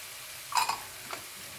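Cabbage, carrot and other vegetables stir-frying in a hot pan for veg fried rice, a faint steady sizzle with a couple of brief scraping stirs.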